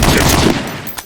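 A gunshot in Medal of Honor: Allied Assault during an online multiplayer match, a loud dense broadband burst that fills the first half second and then tails off, with a faint second crack near the end.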